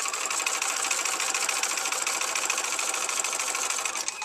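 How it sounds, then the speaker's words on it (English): A sewing machine stitches through a paper-pieced quilt block in a steady, continuous mechanical whir, close and fairly loud, running alone throughout. "I'm not sewing on the sewing line, and I'm not sewing on the dash line. I'm sewing in between."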